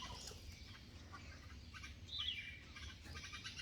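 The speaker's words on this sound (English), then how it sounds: "a group of birds came, start chirping, and they were giving signals to each other that there is some food" A group of birds chirps on a chilly winter morning after gathering to eat scattered rice, with soft, scattered tweets rising over a low background hum and no talk.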